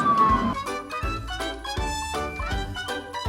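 An ambulance siren wails in a high, falling tone over a bouncy, rhythmic children's music track with regular beats, loud and up front.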